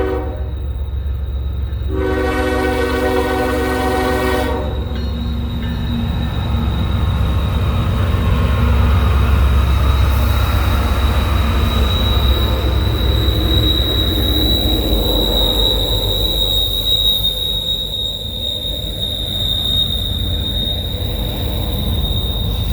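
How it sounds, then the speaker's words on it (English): An intermodal freight train rolling down a hill, opening with a loud multi-note horn blast lasting a few seconds, then a continuous heavy rumble of passing cars with a high, sustained wheel squeal. "we got one coming down the hill. We're gonna get a good horn show. It's to be an intermodal."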